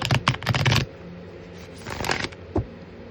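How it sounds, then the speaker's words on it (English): Tarot cards being shuffled at a reading table, two close bursts of rapid riffling flutter separated by a quiet pause, then a soft tap. "A few more shuffles."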